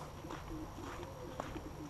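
Pigeons or doves cooing softly at an outdoor bird bath, low repeated coos with an occasional faint chirp over steady background noise.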